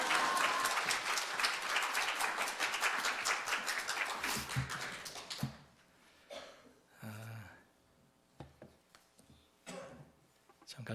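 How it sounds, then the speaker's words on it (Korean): A Korean church congregation claps and applauds to welcome the pastor, dense loud clapping for about five seconds that fades into scattered taps, rustling and faint voices. "우리 청지훈 목사님 나오실 때 할렐루야 박수 치면서 우리 맞이했으면 감사하겠습니다."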